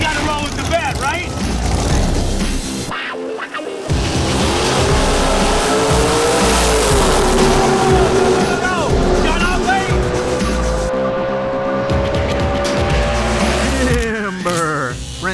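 A 1959 Corvette and an Oldsmobile in a drag race, loud engines roaring and revving with tires squealing and screeching, a brief break in the din, and an announcer talking over the racket.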